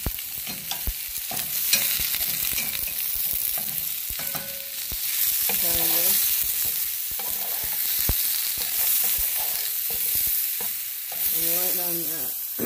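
Zucchini fries in a pan on a stovetop over medium heat with black pepper, a steady close sizzle broken by scraping stirs and clacking utensil taps, with a few short bursts of harmonic squeaks.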